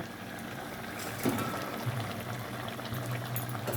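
Fish pieces go into a simmering vegetable curry of boiled snake gourd. A steady close bubbling fills the clip, with a brief splashy disturbance early on and no talk.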